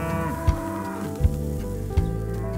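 Cattle lowing in a steady, droning chorus, with three soft dull thumps spaced through it.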